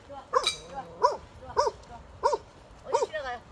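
A small dog yips and barks five times in quick, evenly spaced bursts, close by, with people talking nearby.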